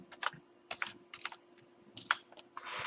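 Clusters of keystrokes on a computer keyboard while entering Python code, irregular bursts of clicks, close and fairly quiet, with no talk over them.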